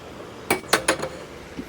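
A metal kadhai set down on a kitchen stove gives a short cluster of three or four bright metallic clanks in quick succession, close and fairly loud, then a faint tap as it settles in a quiet room.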